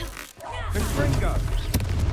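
A Confringo fire spell blasts off in Hogwarts Legacy, a loud burst with a sharp crack near the end, set amid busy combat noise with character voices talking over it.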